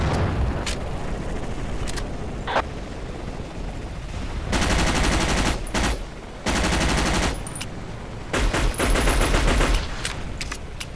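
Dense gunfire from a Vietnam-era multiplayer battle in Battlefield Vietnam, with rapid automatic bursts and shots in several loud stretches over steady battlefield noise and no talk.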